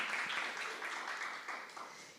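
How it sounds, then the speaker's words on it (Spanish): A crowd applauds in a dense, steady patter of clapping that gradually tapers off. "Dale un aplauso, aleluya, amén."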